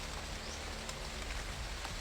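Rain falls as a steady, close hiss of dense drops with no break, outdoors during a search in a downpour.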